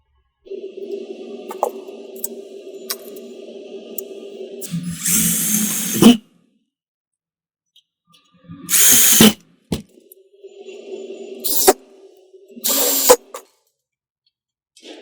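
A power drill drives screws into the horizontal support of a polycarbonate window awning, with a long steady whirring run followed by several short sharp bursts of drilling separated by quiet pauses, close and loud.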